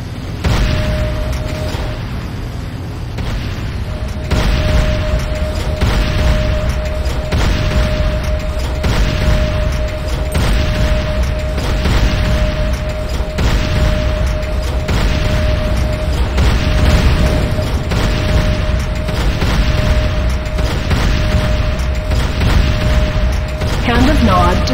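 A Nod structure, the Hand of Nod, being destroyed in the video game Command & Conquer: Renegade, with continuous booming blasts and rumbling mechanical noise over a steady tone, loud and dense for the whole stretch.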